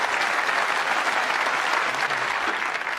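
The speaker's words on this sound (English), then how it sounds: "Terrific round of applause for the Rockets' first century of this 107. year's World Championship" Audience applause at the snooker World Championship after a century break of 107, a dense sustained clapping from a large crowd filling the hall, steady and loud throughout.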